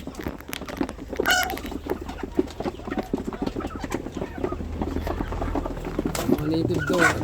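Native chickens, turkeys and ducks on a poultry farm cluck and call in a busy, overlapping barnyard chorus, with a rooster-like cry rising near the end and people talking underneath.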